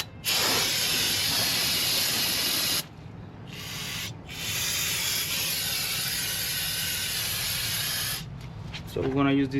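Aerosol cleaner sprayed onto a removed front brake rotor from a Toyota Camry, loud steady hissing bursts with two short breaks, ending in a clatter.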